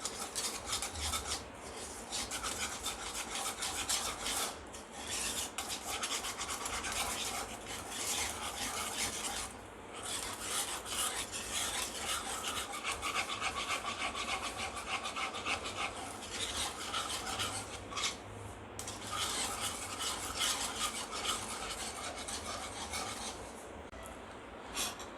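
A creamy vermicelli dessert mixture for sewai is stirred by hand, a steady scraping and rubbing of spoon against bowl, close and continuous with brief pauses and no talk.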